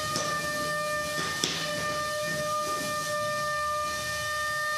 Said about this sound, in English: You can hear that drum spinning up even faster.